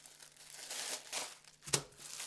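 A small green plastic bag being handled, giving a run of soft crinkling and rustling close by, with a sharper crackle near the end; no voices.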